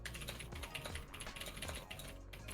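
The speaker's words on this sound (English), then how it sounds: "I'm typing, and it probably got picked up." Fast, continuous typing on a computer keyboard, a dense patter of clicky keystrokes close to the microphone, heard alone.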